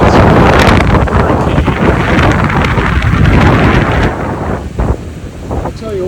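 Strong storm gusts blowing in from the south over a coastal fishing area in La Paz, Mexico, roaring loudly and buffeting the microphone continuously before easing slightly toward the end.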